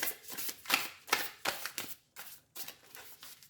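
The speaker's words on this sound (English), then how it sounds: "I don't usually shuffle that many for this one." Soft, rapid riffling of playing cards being shuffled up close, in several short bursts separated by brief pauses.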